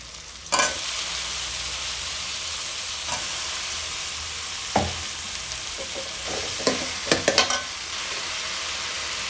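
Sliced eggplant fries in a pan with onion and tomato, a steady close sizzle running throughout, broken by sharp scraping clatters of a spoon stirring, more frequent toward the end; no talk.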